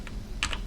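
A few quick keystrokes on a computer keyboard, close and crisp, with two clustered clicks standing out over a faint steady room hum.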